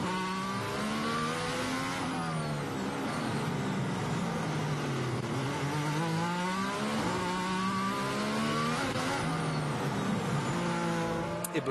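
Formula 1 race cars at the 2021 Mexico Grand Prix, loud, continuous engine howl climbing and dropping through gear changes, several pitches overlapping as cars pass, with no voices.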